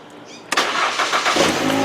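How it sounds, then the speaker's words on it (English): A car engine fires up after a jump start. An abrupt crank catches at about half a second and settles into a loud, close, steady running rumble. "You can start the vehicle, and then the alternator can take over"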